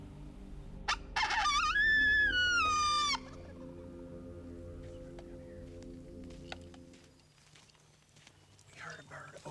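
A wild turkey gobbles in foggy woods on a turkey hunt, a loud rattling burst of repeated calls followed by quieter woodland ambience with faint scattered sounds.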